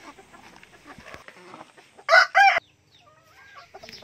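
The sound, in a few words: chickens clucking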